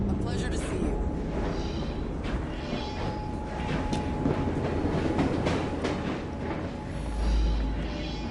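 A train rolling along in Assassin's Creed Syndicate, set in Victorian London, gives a steady rumbling rattle with a faint clickety-clack and mechanical clatter. The noise stays constant throughout, with a heavier low thump near the end.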